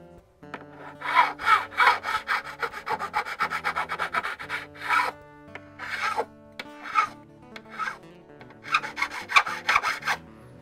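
A special tool reshapes the tops of guitar frets on a Takamine guitar, giving close, repeated rasping strokes in an uneven rhythm with brief pauses, a dry scraping file sound heard alone.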